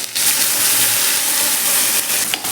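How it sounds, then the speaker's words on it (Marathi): Whole spices frying in hot oil for a mixed vegetable dish make a loud, steady hiss and sizzle close by, with a few brief clicks, no voices. "हे खडे मसाले घेतलेले आहेत ते घालून घ्यायचे आहेत आणि हे छान असे आपण तेलावरती फ्राय करूया"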